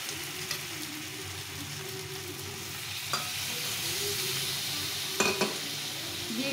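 A potato masala with ground melon seed and cashew paste sautés in a pan, giving a steady close sizzle with a few sharp scrapes and taps from stirring.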